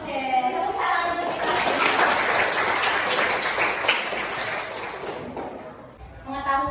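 Classroom applause from pupils during an Indonesian language lesson: a dense, steady wash of clapping fills the middle few seconds, with a teacher's voice talking just before it swells and again as it dies away.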